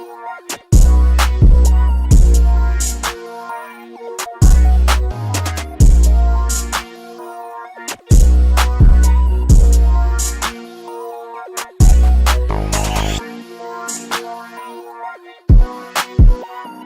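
A trap beat assembled from the Overgloom Trap Bundle sample kit: booming 808 bass hits and crisp hi-hat rolls over melodic synth layers, loud and punchy. It drops out abruptly several times before kicking back in.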